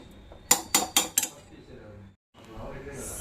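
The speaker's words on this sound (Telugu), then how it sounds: "సాల్ట్ వేస్తున్నాను." A spoon clinks four quick times against a pot or bowl while salt goes into a chicken marinade for Andhra natu kodi biryani, followed by a brief silence and a soft hiss.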